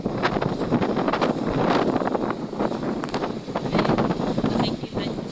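Strong seaside wind buffets the microphone in heavy, continuous gusts, a rough roaring rumble with rustling, close and loud throughout.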